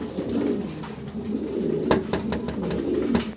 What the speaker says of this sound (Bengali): ভিডিও স্ক্রিনে আপনারা এক জোড়া রেসার কবুতর দেখতেছেন এখানে